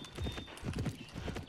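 Horse hooves clip-clopping in the Petz Horse Club video game, a brief run of quick, soft, evenly paced hoofbeats heard fairly faintly.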